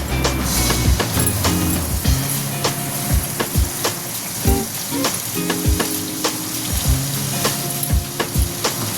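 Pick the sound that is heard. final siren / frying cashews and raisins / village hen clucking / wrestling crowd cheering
frying cashews and raisins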